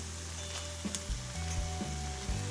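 Rice hits a hot pan with a few drops of sesame oil for Malaysian special fried rice, giving a steady close sizzle with a few stirring scrapes and clunks against the pan.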